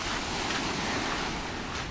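Sea waves at a beach in Alanya, Turkey, a continuous broadband wash of surf with some wind noise, steady and fairly loud with no talking.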